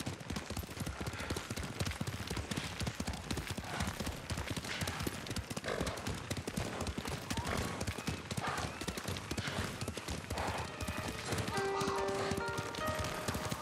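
Horses' hooves clip-clop in rapid, continuous rhythm while riding through the Ghost of Tsushima video game, with game music and voices mixed in the background.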